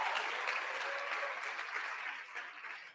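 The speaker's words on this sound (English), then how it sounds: "please give them a round of applause" Steady applause from an audience at a primary election watch party honoring campaign volunteers, a dense wash of clapping that holds evenly then tapers slightly toward the end, moderately distant.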